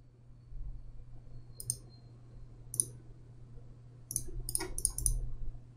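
A computer mouse clicks during an online chimp memory test, with scattered sharp, faint clicks, singly and in a quick cluster near the end, over a low room hum.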